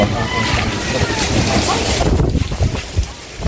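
Strong wind buffets the microphone in a continuous roar, easing slightly near the end.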